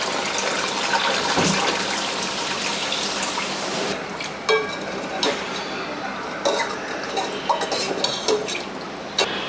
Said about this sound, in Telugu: ఇప్పుడు సరిపడా వాటర్ పోసేసుకోవడం